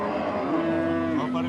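A bull offered for Qurbani at a rural cattle market in southern Bengal gives one long, fairly close moo, with a low steady tone that slides down at the end, over faint background murmur.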